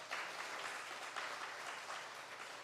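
Church congregation applauding during Sunday worship, a steady patter of many hands that is fairly faint and even, heard alone with no talk.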